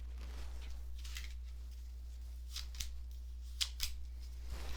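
Tarot cards shuffled and drawn for a two-card spread, heard as soft papery swishes and a few sharp snapping flicks, close and quiet over a steady low hum, with no talking.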